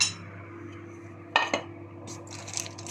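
Plates and dishes handled while serving parathas at home, with a couple of quick clinks of crockery and lighter clatter over a steady background hum.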